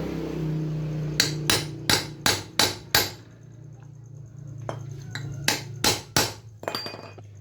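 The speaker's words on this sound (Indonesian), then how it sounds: "Kita pukul di bagian samping sini ya teman ya, itu untuk kita melipat besi yang kita belah ya" A hammer strikes a metal arm bushing in two runs of sharp ringing blows, five in quick succession, then a pause with lighter taps, then another string of four or five hard hits, close and loud.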